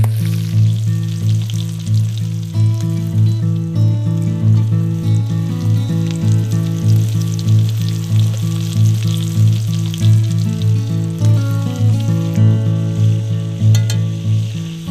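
Thick northern pike fillets fry in a pan for a shore lunch, giving a loud, continuous close-up sizzle with a low steady hum underneath and faint occasional clinks, with no voices over it.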